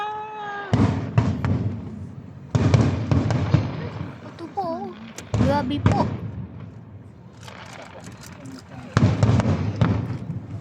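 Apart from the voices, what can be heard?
fireworks exploding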